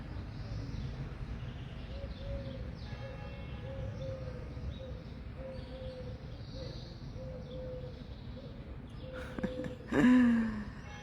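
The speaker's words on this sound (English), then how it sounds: "Can you hear the birds?" Soft bird calls repeat in a gentle rhythm over a low, rumbling outdoor background, with a brief louder knock near the end.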